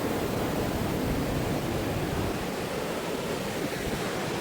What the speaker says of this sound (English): Got these rolling waves coming in